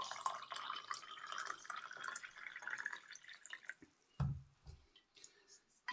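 Warm water at about 60°C is poured into a cup over a spoonful of goji berries steeped in aged vinegar, a soft continuous trickle and splash that thins into a few close, faint drips.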